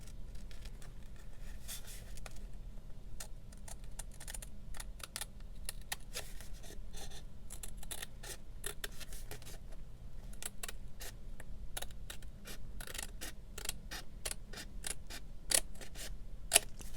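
Scissors trim a paper craft pocket in a quiet room, a dense run of small, close snips and paper rustles that continues throughout, with no talking.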